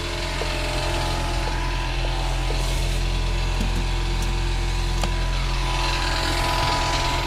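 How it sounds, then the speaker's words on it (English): Reciprocating saw cutting through a car body kit fender in a fabrication shop, a loud continuous buzzing drone that holds steady throughout, with faint clatter and ticks over the top. "It's just my reciprocating blade cuts so fast, it's nice. It doesn't jiggle around the fender."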